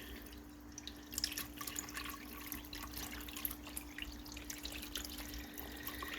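Cold running water trickles and drips steadily into a pot, a quiet continuous splashing with a faint steady hum underneath.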